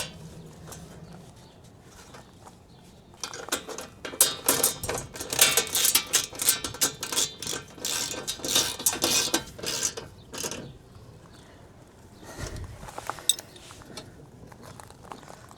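A nut with a lock washer is tightened on a Ford F350 truck using a deep socket wrench, giving a burst of rapid, close ratcheting clicks that stop, then a few scattered clicks and taps follow.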